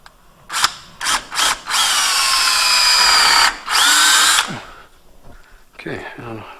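A power drill bores into a polyurethane suspension bushing on a GTO, starting with a few short bursts, then a sustained high whine with a pitch shift, another run, and a quieter mechanical rattle at the end, close up.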